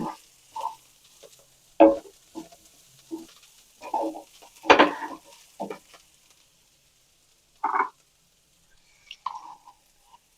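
Drumstick flowers sautéing in a pan over medium flame for an egg stir-fry, with intermittent soft sizzling bursts and scraping stirs spaced by quiet gaps, close and fairly faint.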